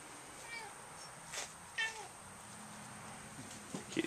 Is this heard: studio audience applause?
no